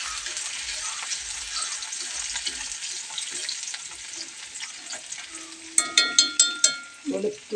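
Ginger dropped into hot oil after mustard seeds have spluttered, frying for a Kerala banana pickle: a steady close sizzle, then a run of sharp popping crackles near the end.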